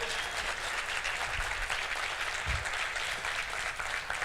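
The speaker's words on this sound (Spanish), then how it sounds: "Un aplauso, por favor" An audience at a talk on disrupting government bursts into loud, dense applause that continues without letup, with a couple of low thumps in the middle.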